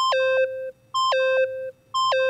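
The bomb in the Danganronpa video game gives off a repeating electronic tone pattern, a bright descending two-note chime sounding three times at a steady pace, clear and alone.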